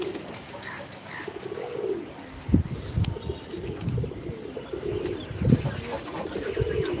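Pet pigeons cooing softly around a coop, low rolling coos repeating through a steady background hum, with a couple of sharp knocks and faint distant sounds.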